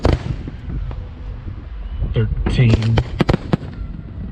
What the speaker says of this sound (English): I'm getting the explosions now.